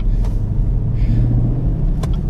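A powerful car's engine rumbles steadily at close range while driving on an icy road, a continuous low drone with no talk.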